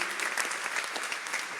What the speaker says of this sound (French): on peut bien les applaudir